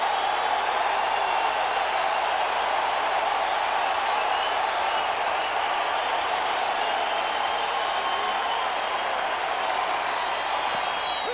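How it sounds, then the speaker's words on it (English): Crowd at a Chicago Cubs home game against the Cincinnati Reds in 2004 roars and applauds steadily during a full-count at-bat, a dense, sustained stadium wash that never lets up. "Here comes the crowd again."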